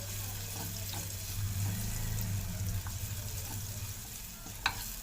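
Ginger and garlic fry steadily in a handi for chicken makhni, a constant soft sizzle with occasional faint utensil taps and one sharper clink near the end.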